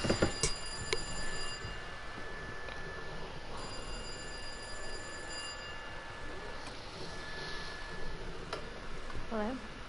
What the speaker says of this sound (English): and you've got a phone call.